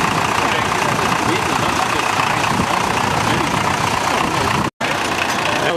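A vehicle engine idles steadily at close range, a dense continuous rumble with a brief dropout near the end, and faint voices may sit underneath.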